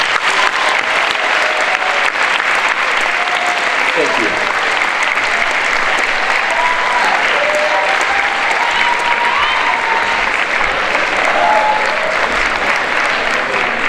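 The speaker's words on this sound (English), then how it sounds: "let's all have a round of applause for all the teachers that have brought us so far" A full round of applause from a school honors breakfast audience honoring teachers, loud and sustained throughout, with a brief spoken thank-you over it.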